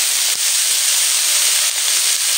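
Onion, tomato and green chili dropped together into hot oil for a light rohu fish curry, giving a loud, steady hiss of sizzling that fills the whole moment without pause.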